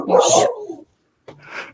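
Dogs at home bark close to the microphone, one loud bark followed after a brief silence by a second sharper bark or yip.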